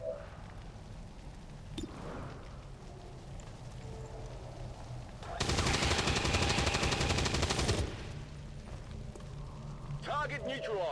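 Burst of automatic gunfire in the XCOM 2 video game, a dense sustained volley of about two and a half seconds that stands out loudly over a quieter game soundscape, with a voice speaking around it.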